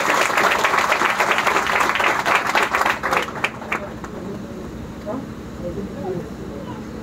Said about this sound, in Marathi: एकदा जोरदार टाळ्या वाजवूया सगळ्यांनी.